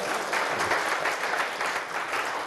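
An indoor lecture audience claps steadily, a dense and even wash of applause filling the room without a break.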